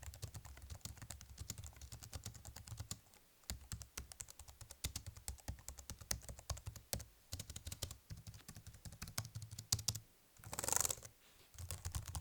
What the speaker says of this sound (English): no one on YouTube cares about the membrane keyboard sounds